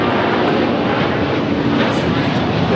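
WestJet Boeing 737 MAX 8 from Winnipeg crossing a runway at Los Angeles airport, a loud, steady broadband jet engine roar that holds constant throughout, close by and unbroken.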